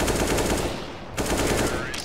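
Rapid automatic gunfire from the video game CS:GO, a dense sustained burst of shots with a brief lull near the middle before firing resumes, loud and close throughout.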